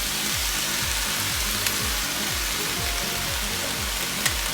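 Vegetables for chicken fajitas sizzle steadily in a hot pan, a constant close frying hiss with a repeating low pulsing hum underneath.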